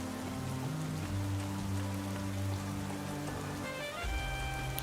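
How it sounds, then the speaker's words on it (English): Steady rain pours down in the Nikke Goddess of Victory video game, a constant dense hiss of falling drops under a low droning musical score, with no voices. "It's raining. Now I'm all wet."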